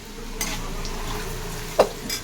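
Lentils with salt, turmeric and poppy seed are stirred in a pot: a few brief spoon scrapes and clinks over a low, quiet cooking background.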